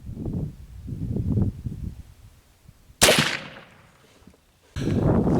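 A single sharp, loud shot from a .36 caliber muzzleloader rifle cracks out after a quiet stretch, its report ringing and decaying over about a second, with wind noise or rumble around it outdoors.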